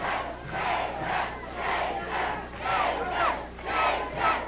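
A wrestling arena crowd at a Stampede Wrestling match cheers and yells in loud, surging waves, rising and falling in repeated bursts as they urge a wrestler into action.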